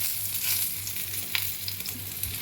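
Pieces of ash gourd frying in a hot pan give a steady, close hiss and sizzle, with occasional light stirring clicks and a low hum underneath.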